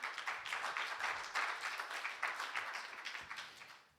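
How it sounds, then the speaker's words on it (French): A congregation applauds at a religious gathering, dense steady clapping from many hands with no voices over it, holding for a few seconds before fading at the end. "on peut applaudir Jésus"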